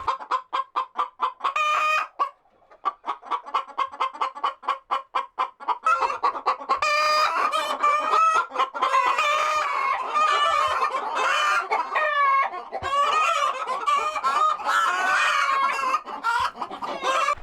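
A broody hen sitting on clay eggs clucks in rapid repeated bursts, close and clear, then shifts into a louder, continuous stream of agitated clucking and murmuring.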